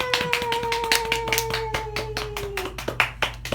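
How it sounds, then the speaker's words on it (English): Hands clap in a steady, quick rhythm, a small group applauding nearby at a library storytime, with a faint tone held underneath. "we'll still clap for you"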